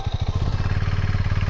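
A KTM 390 Adventure motorcycle engine idles close by with a steady, rapid thumping pulse, parked at a trailhead in rain.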